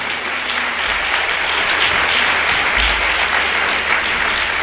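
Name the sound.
audience applause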